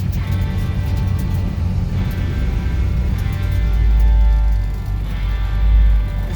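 A Chevelle hot rod car rumbles steadily from the cabin on a test drive, its low engine drone swelling and easing as it moves along, with no talking.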